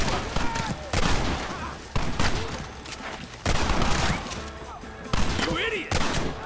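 Heavy gunfire in a Red Dead Redemption gate shootout, dense overlapping shots and thuds with sharp loud onsets roughly every second amid a noisy battle, with voices mixed in.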